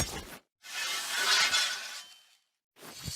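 Valorant Champions bundle sword effects: a couple of sharp metallic slashes with bright, shattering rings, one drawn out and swelling, separated by short silences.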